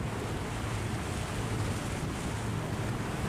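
A fishing boat runs fast across the sea toward port, its motion heard as a dense, steady roar of rushing water and wind buffeting the microphone with no break.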